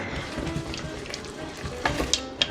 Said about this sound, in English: I'm gonna add the last little bit and then stir it